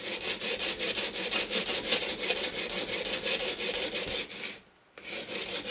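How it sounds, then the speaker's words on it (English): A knife bevel ground on a wet stone with an Edge Pro sharpener, working a Spyderco Paramilitary 2 in CTS-20CP steel: a steady, close, rhythmic rasping of back-and-forth strokes, pausing briefly near the end before resuming. "I'm gonna grind the bevel on this side."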